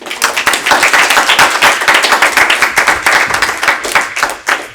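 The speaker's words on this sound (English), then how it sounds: "Let's give another big round of applause." Audience at a Bhakti night devotional gathering claps loudly and close, a dense, continuous burst of applause lasting several seconds before trailing off, with no talking over it.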